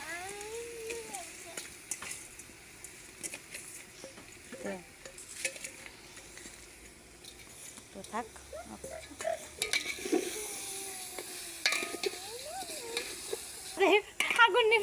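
Picnic food cooking in a large pot is stirred, with scraping and shuffling strokes over a low sizzle, while voices murmur in the background and a few clattering knocks come near the end.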